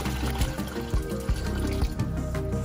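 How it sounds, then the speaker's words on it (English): Water poured into a reptile tank being set up for red-eyed crocodile skinks, a steady splashing, gurgling stream with bubbly pulses, close and fairly loud, without speech. "We're gonna install our filter next, add our water,"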